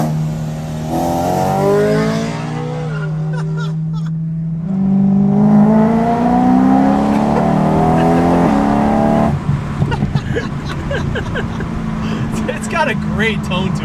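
Supercharged BMW M3 engine droning and rising in pitch while driving, a steady in-cabin hum that swells and climbs through revs, with people talking over it.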